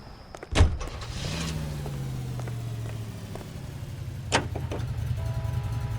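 A car being driven in the video game L.A. Noire, its engine humming steadily at low pitch with a rising whine, a sharp knock at the start and another midway.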